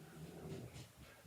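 A dog whimpering indoors, a short faint whine with a couple of brief tonal cries over quiet background.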